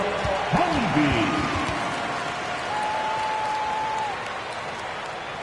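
Crowd applause fills a basketball arena, clapping steadily under a voice talking over it, then fading slightly toward the end.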